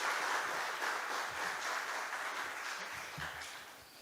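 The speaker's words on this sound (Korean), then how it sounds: "박수로 맞이하겠습니다" A church congregation applauds to welcome a preacher at the opening worship service of a Methodist district conference, a steady wash of clapping that fades slightly toward the end, heard from within the hall.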